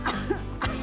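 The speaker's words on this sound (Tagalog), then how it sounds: "inuubo na" Two harsh coughs from one person, close by, a brief pause between them.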